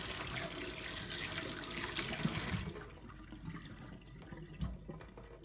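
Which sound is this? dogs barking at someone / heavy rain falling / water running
water running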